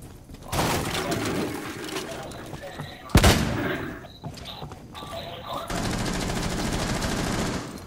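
Gunfire in the tactical shooter Rainbow Six Siege cracks out in a sharp burst around the midpoint, amid a continuous busy game mix of movement and ambient noise.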